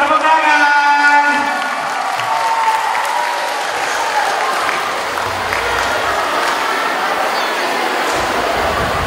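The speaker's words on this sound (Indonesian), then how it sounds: "Tepuk tangan." Loud, sustained applause from an audience after a Malay dance performance by primary school pupils, a dense steady clatter of many hands that fills the space and runs on without pause after a brief spoken announcement.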